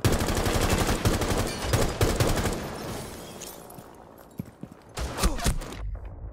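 Rapid bursts of gunfire crackle loudly in a Rainbow Six Siege match, with dense repeated shots and a closer blast near the end, ending in quieter scattered sounds and no talking.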